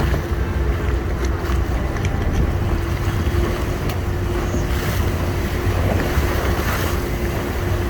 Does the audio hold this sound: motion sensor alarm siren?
no